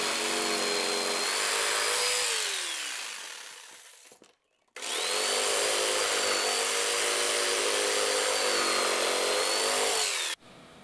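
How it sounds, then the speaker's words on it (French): Two long runs of a jigsaw buzzing through wood as it cuts notches, loud and close, separated by a brief pause, with the pitch dipping slightly as the blade works. "je réalise à la scie sauteuse des entailles qui vont me permettre de glisser mes différentes presses"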